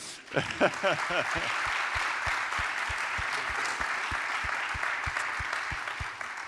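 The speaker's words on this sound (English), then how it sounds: "Yeah, we can actually applaud that one." Audience applause fills a conference closing session, steady and sustained throughout, with a short burst of speech at the start and a regular low thumping pulse running underneath.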